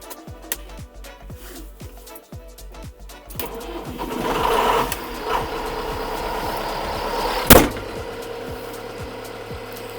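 A 100 hp John Deere 6310 tractor engine runs with a steady low rumble and scattered clicks, growing louder after a few seconds and peaking in a sharp burst near the end.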